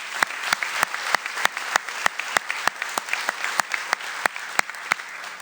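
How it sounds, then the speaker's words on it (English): Audience applause at a spring sports awards ceremony for a girls soccer team, with full crowd clapping and a few loud claps standing out. "One more big round of applause for the girls soccer team"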